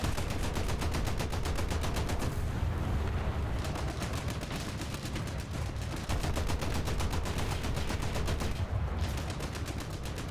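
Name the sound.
gunfire in the video game War Thunder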